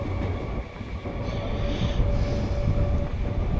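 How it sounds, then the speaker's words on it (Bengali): A passenger train moves fast, heard from on board as a steady, loud rumble of wheels and carriage noise that continues without a break. "খুব জোরে ট্রেন চলেছে"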